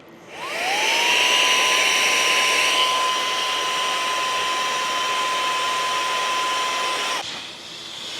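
Multipurpose vacuum-and-blower unit inflating a party balloon, roaring loud and close with a steady high whine that spins up quickly, holds for several seconds, then cuts off.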